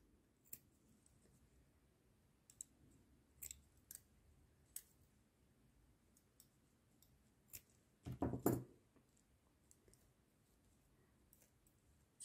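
Scissors snip through yarn while knitting a child's sweater, scattered small clicks followed by a firmer cutting crunch, close and quiet with no talk.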